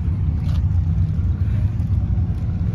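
A Dodge Hellcat racing at an import car meet: a steady, deep engine rumble under acceleration, loud and sustained without a break, with a faint higher whine above the roar.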